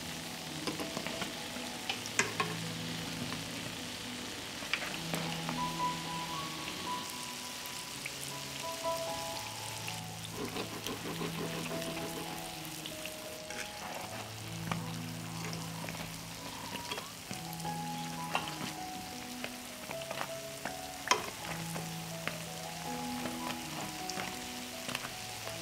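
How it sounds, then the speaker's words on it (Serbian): Uštipci dough fritters frying in hot oil, a steady close sizzle with scattered pops and crackles running throughout, with no voices. "I pržimo ih 3 do 4 minuta sa obe strane, dok ne dobiju finu brown boju"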